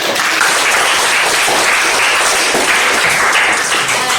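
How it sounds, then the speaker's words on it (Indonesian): A classroom audience of teachers and students applauds after a lesson presentation, dense steady clapping that is loud and close and continues throughout without a break. "kita kasih tepuk tangan"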